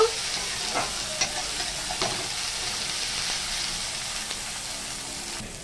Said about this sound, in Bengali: আদা আর একটু রসুন বাটা দিলাম। এটাও 2 সেকেন্ড ভেজে নেব।